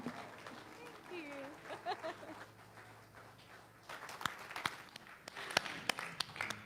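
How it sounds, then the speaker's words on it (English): An audience applauds a singer named Krista at a church service: scattered, moderately loud hand claps build in the latter half, after a fading tail of music. "Let's give her another round of applause."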